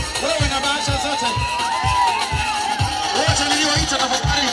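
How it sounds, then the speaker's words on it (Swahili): Wedding guests ulululate in a loud, crowded celebration, with wavering high trills over steady crowd noise and a rhythmic thumping beat, close by and continuous. "Vigelegele tafadhali."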